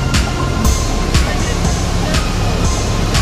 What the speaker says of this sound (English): And you can get very close to the waterfall.